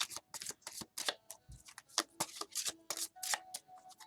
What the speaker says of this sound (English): Thank you for being patient while I go through my process of shuffling.